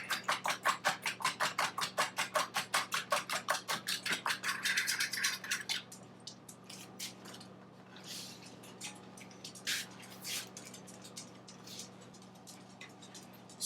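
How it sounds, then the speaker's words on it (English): Eggs being whisked in a bowl: a fast, steady, rhythmic ticking of the utensil that stops after about six seconds, followed by sparse soft clicks and quiet handling. "you just need to give the eggs a little mix up"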